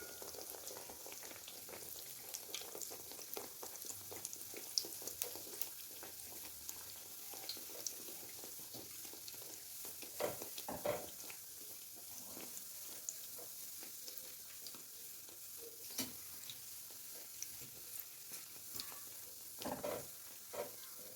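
Mahamri dough pieces frying in hot oil, a steady soft sizzle and bubbling with occasional stirring clatters, close and continuous without talk.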